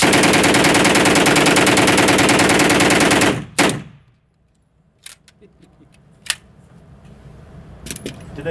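A MAT-49 submachine gun fires one long continuous full-magazine burst, loud and rapid, cutting off sharply after about three seconds, followed by quieter mechanical clicks and handling noises.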